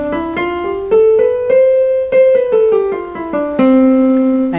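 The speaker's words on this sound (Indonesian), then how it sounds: "Jadi tangga nada itu terdiri dari do, re, mi, fa, sol, la, si, do." A keyboard plays a major scale note by note, do re mi up through the octave and partly back down, each tone clear, sustained and evenly paced with no voices.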